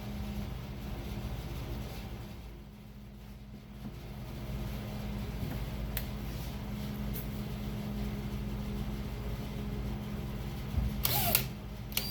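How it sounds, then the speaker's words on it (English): A power drill whirs steadily into the hull of a Wenonah Prism 165 solo canoe near a crack, a continuous mid-level drone lasting several seconds, ending with a few sharp clicks and knocks. "of course I drilled right on the crack and cracked it more"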